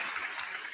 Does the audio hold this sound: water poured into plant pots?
no